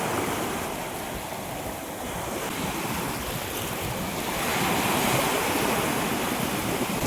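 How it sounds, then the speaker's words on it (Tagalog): Steady roar of ocean surf washing onto the shore at Isla Verde, broad and continuous, swelling slightly louder toward the end, with no voices. "Sarap pakinggan ng alon."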